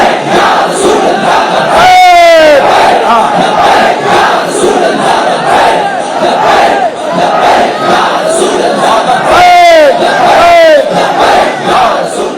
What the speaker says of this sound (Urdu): لبیک کا نعرہ ذرا لگاؤ جی، ہن چلاؤ نعرہ، سارے بولو اونچا۔